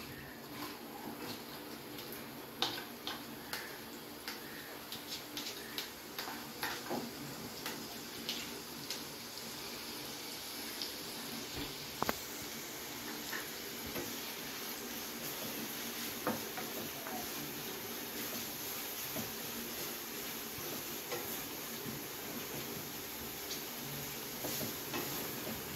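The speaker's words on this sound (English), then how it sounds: "So I am putting this fine chopped onion in it." Finely chopped onions fry in hot oil, producing a soft, steady sizzle with scattered small clicks and pops from stirring. The sound is quiet and close, with no talking.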